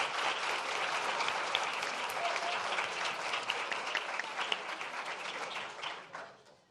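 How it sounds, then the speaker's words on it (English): A panel audience gives the translators a sustained round of applause, dense and even clapping throughout before tapering off at the end. "Has everyone applauded the translators?"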